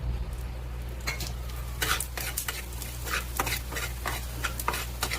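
Whole coriander seeds roasting in a little oil in a pan for a village-style chicken curry, with a quiet sizzle under repeated scraping and stirring strokes of a spoon against the pan, irregular and close.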